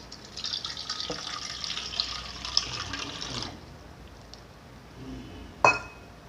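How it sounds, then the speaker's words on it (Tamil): Water pours into a bowl for egg bajji batter with a steady splashing rush for a few seconds, followed by quieter stillness and a sharp clink near the end. "தேவையான அளவு தண்ணி ஊற்றிக்குங்க"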